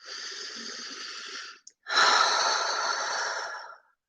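Two slow, deliberate deep breaths, close and airy: a long inhale of about a second and a half, a brief pause, then a longer, fuller breath that fades out, with no speech.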